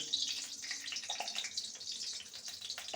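Half a spoon of whole cumin seeds sizzles in hot mustard oil in a kadai, a steady, crackling hiss lasting throughout with no talking.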